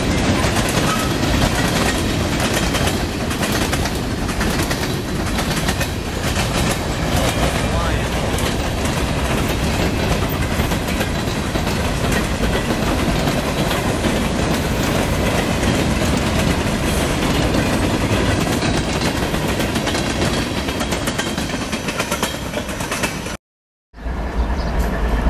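A long freight train of boxcars, with another boxcar locomotive trailing, rolls steadily past close by, its loud continuous wheel rumble and clickety-clack filling the scene until it cuts to a brief silence near the end.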